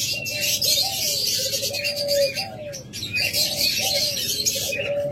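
Big pet parrots in a cage, including blue and violet mutation birds, chirp and call continuously and fairly loudly at close range, with no talk over them.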